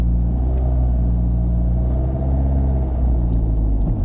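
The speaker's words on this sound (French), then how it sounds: "Et du coup après j'appuie sur l'accélérateur." A car engine drones loud and close in a low, steady rumble as the accelerator is pressed, the pitch shifting slightly as a learner pulls away without stalling.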